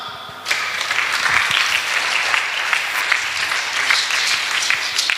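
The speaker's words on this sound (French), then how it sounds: "On acclame." Audience in a church breaks into applause, a dense sustained clapping that starts abruptly after a quiet moment and stays loud and steady throughout.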